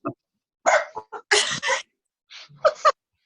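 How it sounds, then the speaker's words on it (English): A dog barks in a handful of short, sharp bursts spread across a few seconds, fairly close and loud with quiet gaps between. "My dog didn't like that comment."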